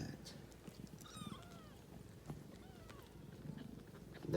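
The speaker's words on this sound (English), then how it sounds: "So many kittens, Kittu." Several kittens, rescued after being found trapped in a truck, give faint, high mewing cries scattered over a quiet indoor background.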